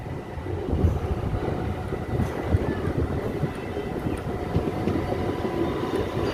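A Katwa–Ahmedpur MEMU passenger train runs along the line, giving a loud, continuous rumble and rattle from the carriages with occasional clanks, heard up close from on board and without speech.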